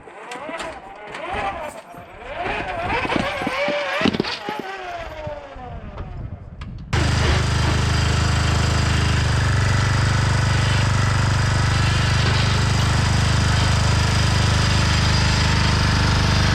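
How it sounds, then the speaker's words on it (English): A 1967 Sears Suburban lawn tractor engine runs in a loud, steady, rough drone that continues unbroken, after a stretch of muffled talk and clatter. "This here is my 1967 Sears Suburban lawn tractor"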